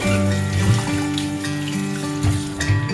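Fresh chicken meat is rinsed under a running kitchen tap, with a steady, continuous splash of water flowing over it throughout and no voices.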